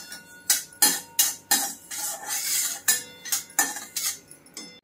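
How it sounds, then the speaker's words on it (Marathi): Barnyard millet rice is dry-roasted in a pan while a metal spoon stirs it: a series of about ten sharp scraping clinks against the pan in an uneven rhythm, close and fairly clear. "प्रथम वऱ्याचे तांदूळ भाजून घ्यायचे."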